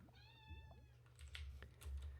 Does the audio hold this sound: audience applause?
no